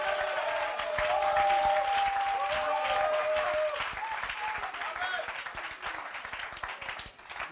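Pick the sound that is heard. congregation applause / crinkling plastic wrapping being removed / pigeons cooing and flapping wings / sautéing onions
congregation applause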